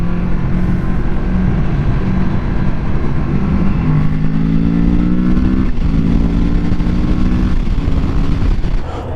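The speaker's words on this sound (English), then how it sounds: "For an inline 2, this thing sounds freaking dope." A Kawasaki inline-two motorcycle engine revs steadily and loudly nearby, its pitch climbing in stepped rises and briefly dropping between pulls, with no talking over it.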